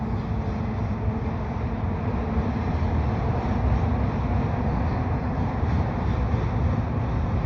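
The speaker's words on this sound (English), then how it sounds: "tanker train, looks like." A westbound tanker freight train rolls steadily across the Victoria Bridge over the St Lawrence River in Quebec, a continuous low rumble heard from a distance with wind buffeting the microphone and no speech.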